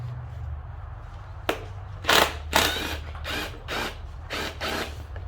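A wrench works a stripping bolt on an ATV, giving a run of harsh ratcheting and grinding bursts, loud and close, over a low steady hum.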